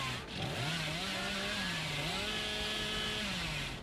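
A chainsaw revs steadily in the horror game Dead by Daylight, its engine pitch dipping and rising as it is wielded by the killer; a loud, continuous drone with no voices over it.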